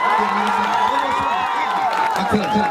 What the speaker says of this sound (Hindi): एक एक बार जोरदार ताली बजा के बताइए